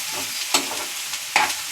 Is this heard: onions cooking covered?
yes